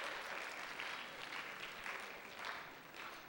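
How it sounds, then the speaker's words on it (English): Students at a high school senior exit assembly clap steadily for a few seconds, a faint, distant-sounding round of applause filling a large room. "How about a quick first round of applause for Mr. Green and Mr. Ozar"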